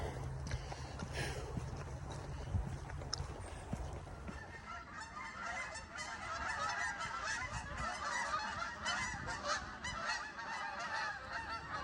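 A flock of geese honks steadily as it passes overhead on the Appalachian Trail, the calls rising and filling the air after a few seconds, clear and moderately close against outdoor ambience with no talk.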